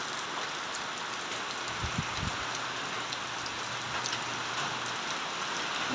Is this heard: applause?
no